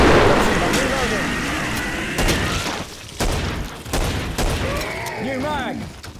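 Booming shotgun blasts and heavy gunfire in the Killing Floor shooter, with a double-barrel shotgun going off amid continuous battle noise and several sharp loud reports.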